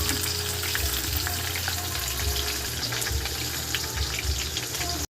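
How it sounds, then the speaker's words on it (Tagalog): Boiled, tender pork leg (pata) sautéing in a pan gives a steady, close sizzle with faint scraping and stirring, continuing without pause until an abrupt cutoff at the end. "nagigisa tayo ng pata"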